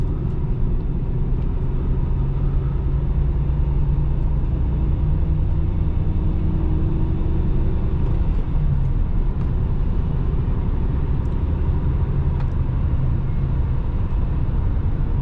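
Stock 1996 Nissan Maxima with its VQ30DE engine driving, a steady low engine drone and road rumble running throughout, loud and constant from inside the car.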